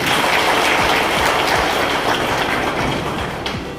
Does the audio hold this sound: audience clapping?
yes